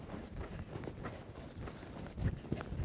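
A horse canters under a rider in a schooling session, a soft rolling three-beat thud of hooves on footing, moderately close and faint, with no talk.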